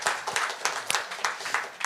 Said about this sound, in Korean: 크게 박수 한번 치고 시작하겠습니다